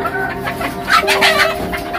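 Chickens cluck in a quick, close-up burst, several birds overlapping in short, choppy calls.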